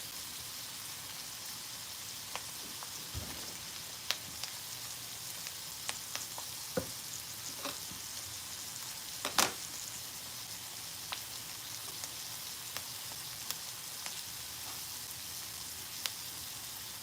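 Garlic frying in a pan for an Egyptian beef and tomato stew, a steady soft sizzle with scattered crackles and pops throughout, close and moderately quiet with no talking.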